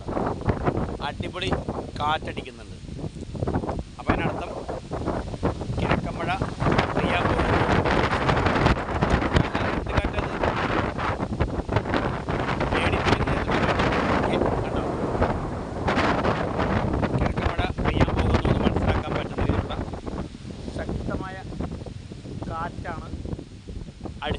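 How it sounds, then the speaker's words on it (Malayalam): Strong wind blasts across the Bharathapuzha riverbank, roaring and buffeting the microphone in heavy continuous gusts, while someone talks throughout. "ഭാരതപ്പുഴ തീരത്ത് നിൽക്കുന്നു കണ്ടോ ശക്തമായ കാറ്റടിയുണ്ട്"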